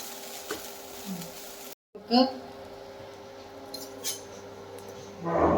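Spoon scraping and clinking in a pot of cooked plantain, yam and chana dal, a few scattered metallic taps and stirs at close range, with a voice talking throughout.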